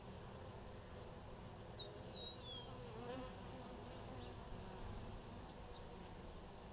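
Honey bees swarm and buzz around an open hive during a spring inspection, a steady dense hum filling the whole stretch with a few faint bird calls above it.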